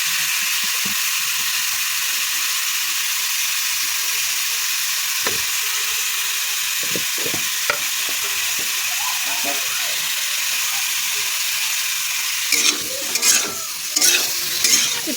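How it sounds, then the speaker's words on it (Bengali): Boiled cauliflower and potato fry in a pan with salt and turmeric, giving a steady close sizzle with scattered stirring scrapes that grow busier and louder near the end. "ফুলকপি আলুটা একটু ভেজে নেব। সিদ্ধ করা আছে, তো বেশি ভাজা লাগবে না।"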